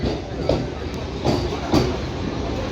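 Steady low rumble of a train running along the track past a station, with a few periodic clacks rising above the continuous rolling noise.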